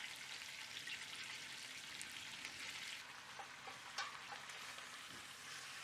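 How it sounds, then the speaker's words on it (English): Pork pieces fry with garlic in a pot, a soft continuous hiss of sizzling fat with a few small pops and crackles as the meat settles in. "it's time to add the pork pieces into the pot one by one"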